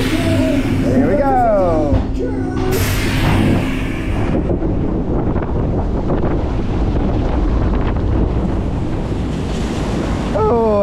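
A log flume boat at Toverland's Expedition Zork ride rushes through water, a sustained loud roar of splashing and spray with wind buffeting the mic, and a rider's voice briefly at the start and end.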